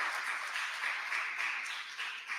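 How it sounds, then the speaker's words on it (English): An audience at a community town-hall gathering in Les Coteaux, Tobago, claps in a steady, moderately quiet wash of applause lasting a couple of seconds. "Give them a lusty round of applause."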